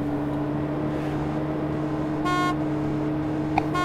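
A car horn in the video game DayZ gives two short honks, the first longer, over a steady droning engine hum.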